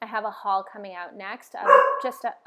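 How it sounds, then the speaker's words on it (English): A dog barks a few times in short yips close by while a person keeps talking over it. "that's my dog"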